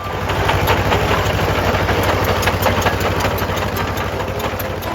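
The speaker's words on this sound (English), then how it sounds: "it was time to get out Dad's old crawler and start cutting down the crown in the center of the driveway" An old crawler tractor engine runs steadily while cutting down the crown of a driveway, a loud, close, rhythmic low chugging with a constant mechanical clatter and no pauses or voices.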